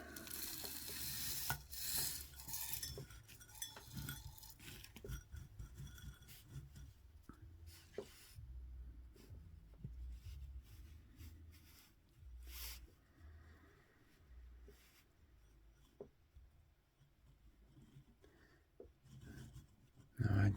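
Gritty akadama, pumice and lava soil mix in equal parts being stirred and scooped by hand while repotting a bonsai tree, giving close, continuous rasping and crunching scrapes with scattered small clicks over about twenty seconds.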